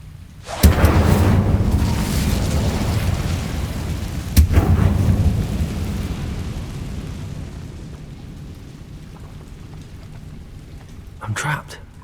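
Incendio fire spell cast in the Hogwarts Legacy video game: a sudden loud whoosh and roar of flames, a second burst a few seconds later, then a long crackling fire fading out before a faint final flare.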